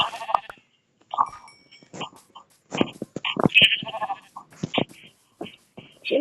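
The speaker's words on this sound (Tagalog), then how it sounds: "may natsempo na akong maraming tupa" Sheep bleat in a survival video game, several short bleats from a flock scattered across a few seconds, fairly close, mixed with other brief game sounds and no talking.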